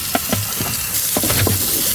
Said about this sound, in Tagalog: nagsasangag tayo ng kanin